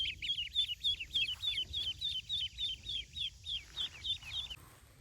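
Ducklings peep in a rapid, steady series of high, thin calls, close by and fairly quiet over a low background hum.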